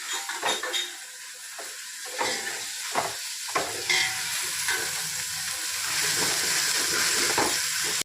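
Mint, curry leaves and coriander sizzle and fry in a village-style chicken biryani pot, a steady crackling hiss with occasional stirring clatter, close and continuous with no talk.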